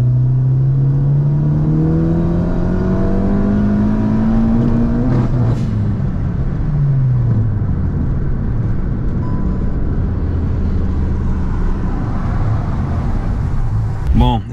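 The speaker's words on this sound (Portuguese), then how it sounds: "Vamos colocar no S, deixar ele trocar de marcha sozinho." A stage 4 tuned VW Golf GTI MK7 in S mode pulls hard from inside the cabin, engine note climbing steadily before an automatic upshift drops the pitch, then a loud continuous road rumble while a person talks.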